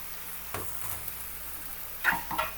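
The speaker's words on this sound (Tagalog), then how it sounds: "Haluin muna natin. Halo, halo, halo." Chicken wings and onions stirred in a hot pan, a soft continuous sizzle with a few distinct scrapes and clunks of the utensil against the pan, close and fairly quiet.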